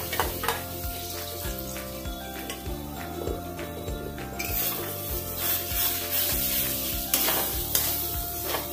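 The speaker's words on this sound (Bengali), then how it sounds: "এবার ধোকা মিক্সটাকে আমি কড়াইয়ের মধ্যে ঢেলে দিচ্ছি।" Dhoka lentil batter hits hot oil in a wok and sizzles, followed by continuous stirring with metal scraping and clinks against the pan, all over soft background music.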